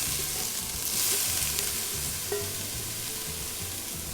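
Grated fresh coconut frying in a teaspoon of homemade ghee, a steady close sizzle with light stirring and a brief clink of utensil partway through, with no one talking.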